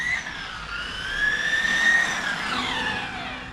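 A turbocharged Porsche being run in, its engine note rising steadily under hard acceleration, loud and close with a sweeping whine climbing in pitch, heard alone.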